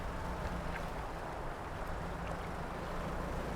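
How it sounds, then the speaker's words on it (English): Steady, broadband wind in the video game Dredge rushes continuously, a low roaring hiss with no speech, even in level throughout. "Oh, it sounds like it's a windy day."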